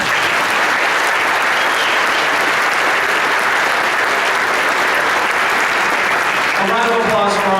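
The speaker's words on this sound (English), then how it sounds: "A round of applause for our two ladies." Stadium crowd applause at a marching band review, a dense, steady wash of clapping and cheering throughout, with a voice starting to speak near the end.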